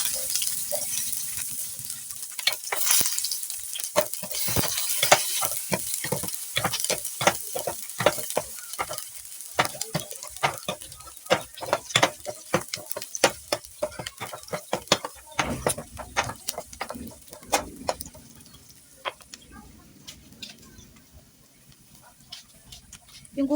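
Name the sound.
sautéing in oil for sinigang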